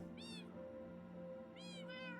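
Minecraft cats mewing in a video game, one meow followed after a gap by two more close together, soft and clear over a constant low ambient drone.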